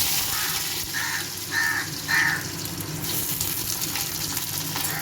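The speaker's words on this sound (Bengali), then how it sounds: "এইভাবে আমি সব পাঁপড়গুলো আগে ভেজে নেব।" Papads frying in hot oil, a continuous close hiss and crackle with a few louder bubbling surges, while crows caw repeatedly in the background.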